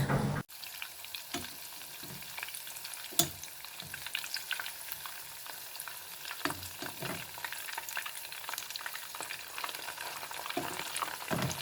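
Squid pieces coated in tempura batter deep-frying in hot oil for calamari, a steady crackling sizzle dotted with sharp pops and splatters throughout, close and continuous with no voices.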